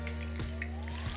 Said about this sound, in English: and I'm shallow frying these.